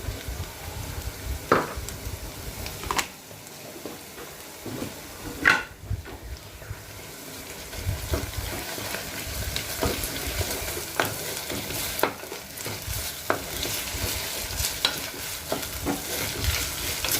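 Ginger paste for mutton keema fries in a clay kadai, a steady close sizzle running throughout with periodic scraping stirs and a few sharper utensil knocks, no voices.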